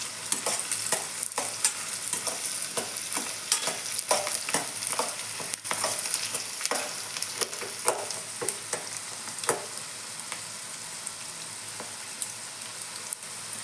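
Vegetables fry in oil in a pan, a constant close sizzle punctuated by repeated sharp stirring scrapes and pops throughout, with no voices.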